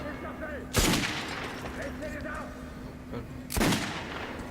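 Two loud gunshots from Metro Last Light, about three seconds apart, each a sharp broadband crack with a short decaying tail, set over a steady game ambience and faint background chatter.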